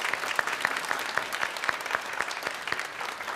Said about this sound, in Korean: 잠깐 일어서시면 박수로 환영하도록 하겠습니다